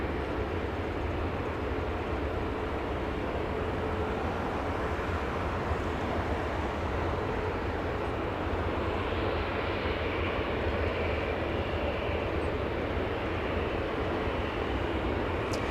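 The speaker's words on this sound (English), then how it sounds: "Max 8, that one, 737 powered by LEAP engines, LEAP 1 engines." An Aeromexico Boeing 737 Max 8 with LEAP-1 engines flying near Los Angeles International Airport, a steady, distant jet roar holding evenly throughout with a faint broadband rush and no voices.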